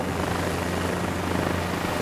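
A helicopter in Microsoft Flight Simulator 2024 hovers with a steady, low rotor hum and engine drone, continuous and moderately quiet throughout, with nobody speaking.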